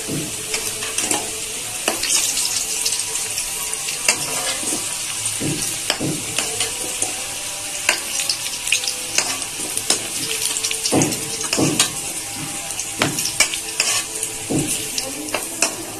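Steady close-up sizzle of potatoes frying until red in a pan for Bengali chicken curry, with frequent scraping stirs and clinks throughout; no talking.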